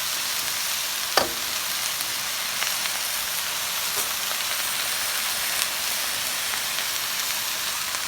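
Soy sauce and garlic fry in a hot pan with cabbage coleslaw mix for egg rolls, a dense, even sizzle throughout with a single sharp clack near the start and faint scrapes, no voices.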